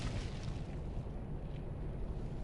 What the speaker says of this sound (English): The delayed explosion sound effect.